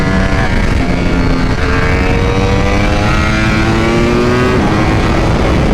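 2021 Ducati V4R motorcycle accelerating hard, its loud engine wail climbing through the revs in repeated rising sweeps as it shifts gears, close and dominant without talk.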